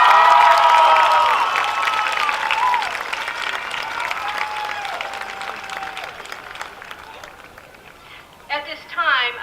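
A crowd at the Fremont Ross class of 2024 commencement breaks into loud applause and cheering that gradually fades, before a voice speaks near the end.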